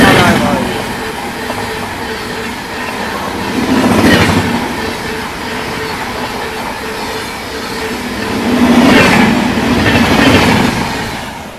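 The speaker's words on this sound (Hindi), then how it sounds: "चलिए दोस्तों दिखाते हैं, इसी ट्रेन का क्रॉसिंग भी हो रही है।" An Amrit Bharat express running Patna to New Delhi rushes through a crossing at night, a loud, continuous roar of wheels and carriages with swells of rattling clatter as the cars pass close by.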